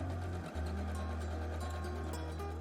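A sewing machine stitching two fabrics wrong sides together runs as a faint, steady motor hum with a rapid needle rhythm, pausing briefly near the start before resuming evenly.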